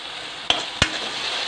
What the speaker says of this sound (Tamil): ஸோ டொமேட்டோ பியூரி வச்சுருந்ததை ஊற்றிக்கோங்க.